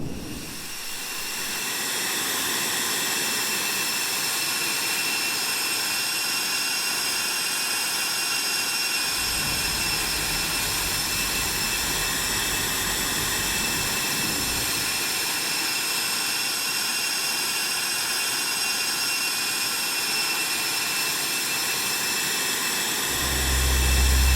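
A jet airliner lightly loaded with cargo and fuel takes off in the X-Plane 11 flight simulator, a steady loud turbine roar and hiss holding for about twenty seconds with a brief shift in tone midway.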